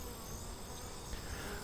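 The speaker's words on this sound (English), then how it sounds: "watching the bees on the tree branch" Honey bees swarming on a tree branch around a caged queen, giving a continuous, even buzzing hum that stays fairly faint and steady throughout.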